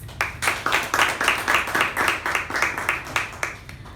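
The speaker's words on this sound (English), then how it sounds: "a big round of applause" Audience members at a club meeting applaud with fairly close, rhythmic clapping from a small group, pulsing in quick even beats before tapering off.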